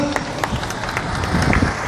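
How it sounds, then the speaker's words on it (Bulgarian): An audience at a Scania truck driver competition final in Bulgaria applauds driver Dimitar Ganchev, with scattered claps going on steadily under a voice that talks over them. "Аплодисменти за него."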